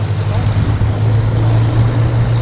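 A Grumman Bearcat warbird, a propeller fighter, flies at an airshow, its steady engine drone holding loud and continuous with a strong low hum throughout.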